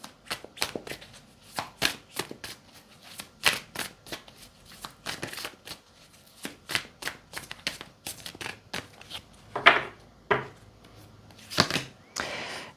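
Tarot cards are reshuffled by hand in a run of quick, crisp riffling bursts and slaps, irregular in rhythm and close up, with no talk over them.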